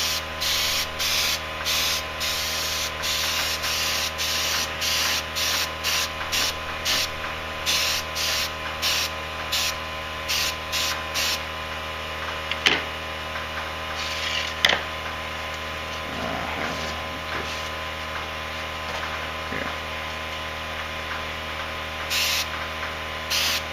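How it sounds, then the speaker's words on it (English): Short, repeated bursts from a spray gun put orange paint onto motorbike parts, a loud close hiss in a steady on-off rhythm for the first half, then sparser over a constant background hum. "So the back part's got to be sprayed orange."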